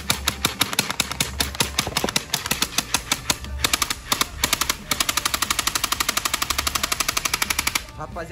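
Rapid bursts from a gel blaster toy gun fitted with two springs, a dense mechanical rattle of fast repeated shots running nearly continuously with brief pauses, loud and close.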